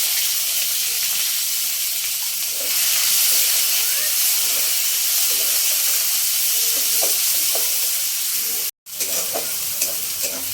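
Chopped onions hit hot oil already browned with cumin and chilli, giving a loud, continuous sizzle and hiss with scattered stirring clinks, briefly cut off near the end before resuming.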